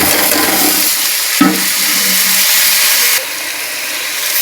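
Rice tipped into a hot pan of fried moong dal, producing a loud rushing hiss and sizzle with a brief clatter, then a steadier frying sound.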